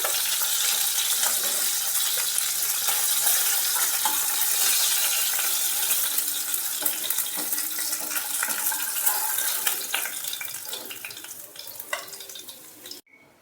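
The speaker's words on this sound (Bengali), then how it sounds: "আরও 3টে মাছ আমি ঠিক একইভাবে ভেজে নিচ্ছি।" Fish frying in hot oil in a pan, a loud continuous crackling sizzle close up with occasional clinks of a utensil, easing off toward the end, no talk.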